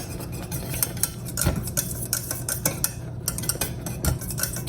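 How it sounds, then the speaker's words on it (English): Chocolate syrup being whisked in a pot, rapid metallic taps and scrapes of the whisk against the pan in an uneven rhythm, close and clear. "And again, you'll whisk through just because you don't want anything burning on the bottom."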